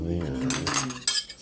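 A butter knife works against a cooked lobster shell, giving a quick metallic clatter and scraping with a couple of brighter clinks in a brief, close burst.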